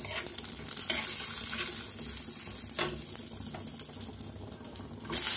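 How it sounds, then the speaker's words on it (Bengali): Cumin, sesame seeds and peanuts frying in a pan, a steady close sizzle with scraping stirs and a louder bump at the end, no talk. "এটা একটু ভাজা ভাজা করবো।"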